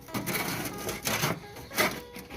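Bottle of fermented bio-fertilizer being opened, giving three separate bursts of gas hiss and rattling at close range, with no voices.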